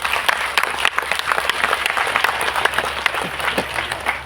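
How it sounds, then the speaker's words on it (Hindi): Audience at a Hindi spiritual discourse breaks into sustained clapping, a dense crowd of hands applauding steadily throughout, moderately close and unbroken by speech. "ताली क्या बजा रहे हैं?"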